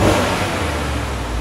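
A 2014 Chevy Silverado with a 5.3L V8 and dual straight-pipe exhaust revs steadily, producing a loud, continuous low engine roar that holds level throughout without talk.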